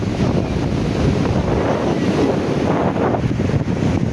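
Waves wash in with a continuous roar, mixed with heavy wind buffeting against the microphone, loud and close throughout.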